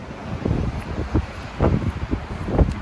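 Wind gusts buffet the microphone on a Moscow street, giving low, uneven rumbling bursts and soft rustling, fairly faint and without speech.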